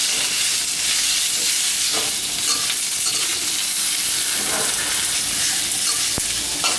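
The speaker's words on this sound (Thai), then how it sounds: "จะเอาหมู มาลวนให้มันสีสันสวยสักนิดก่อนนะครับ" Pork stir-frying in a hot pan: a loud, continuous sizzle and hiss with occasional scrapes and stirring knocks.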